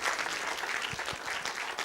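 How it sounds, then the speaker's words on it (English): Audience applause at the WWF-Kenya annual report launch in 2025: a continuous, moderately loud wash of many hands clapping, with a couple of low thumps near the middle and no talking. "Big round of applause."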